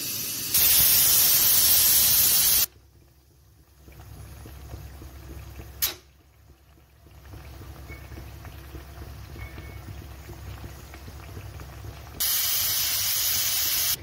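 Chickpeas for chhola bhature boiling in a pressure cooker, its steam hissing in two loud, steady bursts at the start and end, with a quieter simmering hiss and one short sharp burst in between.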